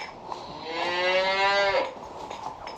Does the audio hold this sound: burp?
no